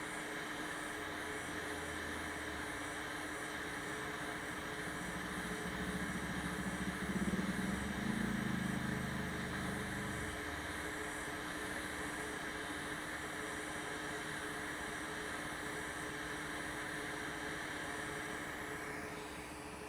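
A hot air rework station blowing through a large nozzle to desolder chips from a motherboard, a steady loud airy roar with a constant hum, running unbroken throughout, close and without talk.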